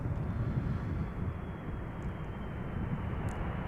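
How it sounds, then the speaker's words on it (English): A KLM Embraer jet airliner departing northward from Amsterdam Schiphol gives a distant, moderately faint jet rumble that stays steady and alone throughout, with light wind noise mixed in. "No, that looks like an Embraer going to the north, KLM."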